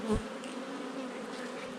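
Honey bees buzz steadily around an open beehive during a brood inspection, a continuous close, moderately loud drone with no talking.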